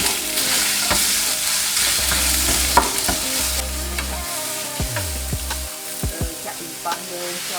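Minced pork hits a pan of crisped garlic and is stir-fried, a loud bright sizzle with scraping spatula strokes, easing into quieter sizzling broken by a few sharp clacks.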